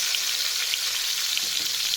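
Eggplant pieces frying in a pan with a steady, close hiss of oil, an even, unbroken sizzle with faint crackles throughout and no voices.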